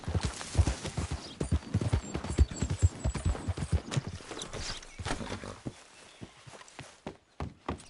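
Horse hooves clip-clop steadily in Red Dead Redemption 2, a close, even walking-to-trotting rhythm that thins out near the end, with little else around it.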